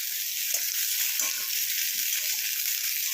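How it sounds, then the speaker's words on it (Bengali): Radish and spinach sizzle steadily in a frying pan for a winter spinach chochori, a constant bright frying hiss with faint stirring clatter underneath, close and even throughout. "এটাও 2 মিনিট একটু ভেজে নেবো।"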